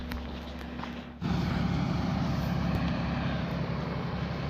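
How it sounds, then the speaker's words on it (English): A tractor on a rural road along the Beara-Breifne Way in Leitrim, Ireland, rolls in with a loud, steady low engine rumble that jumps up abruptly and holds close by, with no talk over it. "Here comes a tractor."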